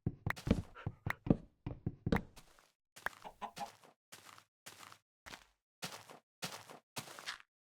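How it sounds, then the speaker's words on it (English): Minecraft chicken clucks in a quick run of short, sharp bursts, followed by evenly spaced clucking calls, close and fairly clear with no talk over them. "That chicken, the way it was just like very insistently walking towards me"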